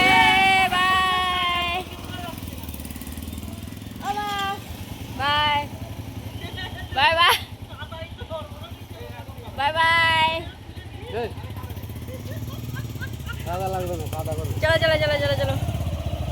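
A motorcycle rumbles steadily along a road in the seaside town of Digha, its engine droning underneath throughout while people talk over it at intervals.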